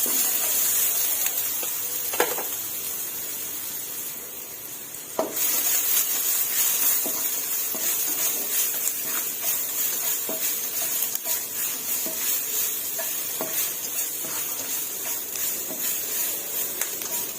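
Onion being stir-fried over low heat in a pan, a steady soft sizzle with scattered scraping stir strokes throughout, fairly close and constant, no talking.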